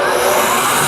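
Bridgeport Series II vertical milling machine with its spindle switched to low range, running around 200 to 250 RPM, giving a steady, loud broadband whir and hum with no talk.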